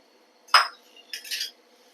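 A spoon clinks against a bowl twice as thick ground urad dal chutney is scooped and transferred into it, two short scraping clatters close by in a quiet kitchen.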